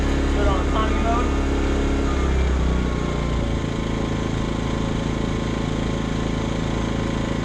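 A Generac GP2200i portable inverter generator runs in economy mode, a loud, steady engine drone with a continuous low hum that holds evenly throughout, easing slightly in pitch partway through.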